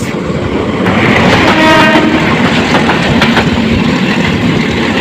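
The Kishoreganj Express, running toward Kishoreganj from Dhaka, rumbles loudly past at close range with a steady roar and rattling wheels.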